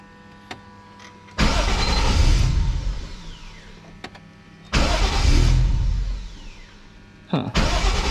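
A Toyota Aristo with a 1JZ engine and custom exhaust cranks and roars to life in loud bursts, twice cutting out and then starting again, a throaty rumble nearby between quiet pauses.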